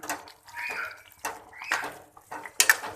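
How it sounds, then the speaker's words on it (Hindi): Liver being mixed with garam masala and coriander powder in a tawa: a few separate close scrapes and clinks of a utensil against metal, with quiet gaps between them and a sharper clink near the end. "अब अच्छी से इसकी करते हैं मिक्सिंग"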